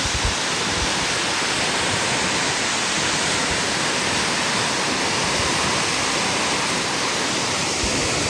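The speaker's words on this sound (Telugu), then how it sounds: "అక్కడ చూడండి గాయస్ నీళ్ళు ఎలా పడుతున్నాయి నీళ్ళగల్లే." Water pours down steadily near a factory cooling tower, a dense, continuous rushing roar that stays loud and even throughout with no voices.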